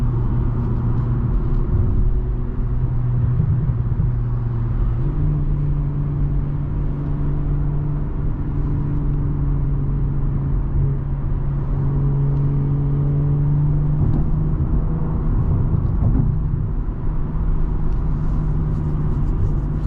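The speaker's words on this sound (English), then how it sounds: "If I go into Sport Plus, and it's way more aggressive, especially compared to comfort mode." A 2023 BMW M340i in Sport Plus mode cruises on the highway, its engine drone loud and steady with shifting tonal hums as revs rise and fall through downshifts, mixed with road rumble and no talking.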